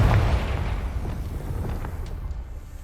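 In a video game, the Confringo spell sets off a low, rumbling explosion that starts loud and fades away over a few seconds.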